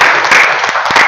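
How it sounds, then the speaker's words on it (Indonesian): Brief, bright clapping from a classroom audience of students during a teaching session, a short loud burst of hands that thins out after about a second. "Beri tepuk tangan dulu teman-teman"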